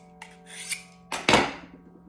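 A kitchen knife being sharpened while its burr is flipped to the other side gives a few short, close scraping rasps, one soft stroke followed by two sharper ones, with no talk.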